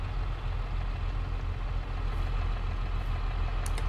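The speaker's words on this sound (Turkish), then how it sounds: "Ben şu motoru marşı basayım. Motorumuz çalışsın." A tractor engine in the Farming Simulator 22 game starting and running at a steady, loud low rumble for several seconds, with no other sounds.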